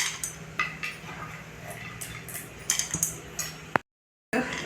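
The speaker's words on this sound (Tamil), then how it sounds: "கடாயை வச்சுட்டு நம்ம கழுவிட்டு வந்த கடலைப்பருப்பை கடாயில் சேர்த்துடலாம்" Pans and a wok clink on a stove as washed chana dal is tipped in, with several sharp metallic taps and knocks scattered through a dull kitchen background, then a brief silence before the clatter resumes.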